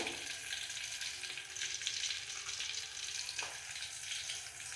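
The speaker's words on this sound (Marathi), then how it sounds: "लसूण थोडासा हलकासा सोनेरी होऊन द्यायचा" Garlic frying in hot oil for a tur dal tadka, a steady bright sizzle and crackle that runs unbroken throughout at moderate loudness, with no voices.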